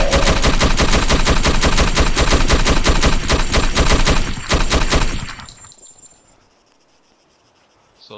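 Rapid automatic gunfire from 7.62 ammunition in the ArmA STALKER mod, loud sustained bursts for about five seconds, then fading into near silence with a faint ambient hum.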